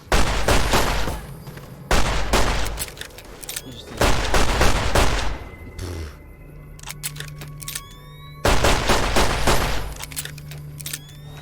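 Bursts of pistol gunfire from Fallout New Vegas, loud sharp shots in several volleys separated by short pauses, with game ambience between them and no talking.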